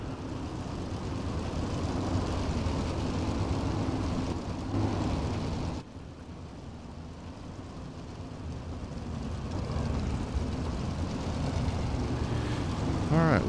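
410 sprint cars circle USA Speedway at pace speed, giving a steady, rumbling engine roar that swells and dips as the pack passes. It carries on without pause.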